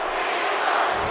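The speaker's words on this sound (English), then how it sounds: "The crowd once again very behind John Cena tonight." A wrestling arena crowd in the video game WWE 2K18 roars steadily, a broad sustained cheer for the match that swells slightly toward the end.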